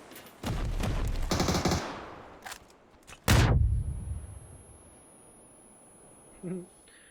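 Gunfire in a competitive video game match: loud bursts of automatic fire and single shots in clusters, a long rattling volley early, a sharp heavy blast mid-clip, and a fainter shot near the end, with talk in the background.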